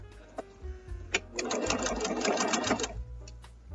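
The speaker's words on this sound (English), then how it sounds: "And then you just sew right up to the seam and back tack" A sewing machine stitches quilt pieces for a soft squares quilt, its motor whirring steadily at close range through a long run, with softer starts and stops at either end.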